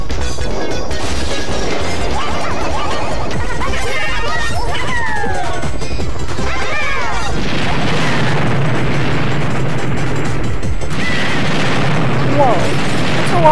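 Bombs go off again and again in an online Mario Kart Wii race, giving loud booms and crashes over game music and engine noise. A commentator talks over the blasts.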